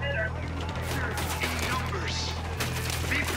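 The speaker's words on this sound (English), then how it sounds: "The Sicarios are shooting the hell out of this emitter" Rapid gunfire from Sicarios attacking an emitter in Ghost Recon Wildlands: a steady stream of crackling shots and bursts over a constant low engine-like hum, fairly close and sustained throughout.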